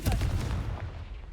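A Confringo spell blast in Hogwarts Legacy: a short, heavy boom fades quickly into a low rumbling tail.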